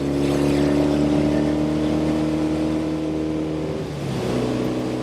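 A 1968 Norton Commando 750 Fastback motorcycle engine drones steadily while riding, a low harmonic hum that shifts pitch near the end as it changes speed.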